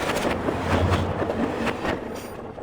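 Train rolling along rails in the game The Station, a steady low rumble with faint rhythmic clatter, heard alone at moderate loudness with no talking.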